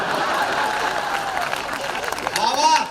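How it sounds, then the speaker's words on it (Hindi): Audience applause fills a Hindi hasya kavi sammelan comedy poetry event, a steady wash of clapping from a crowd lasting a few seconds, with a voice speaking over it near the end. "तालियां कम रह गई थोड़ी सी आपकी"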